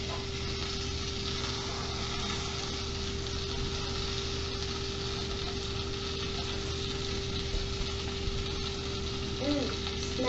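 A crepe browns in butter in a pan, giving a steady soft sizzle with a low hum under it and a few faint clinks near the end.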